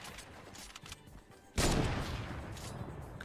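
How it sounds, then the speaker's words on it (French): Sniper fire in the Fortnite video game: a single sudden loud shot cracks out midway and leaves a sustained rumbling wash of noise after it, with quieter game sounds before it. "Combat de sniper, attention."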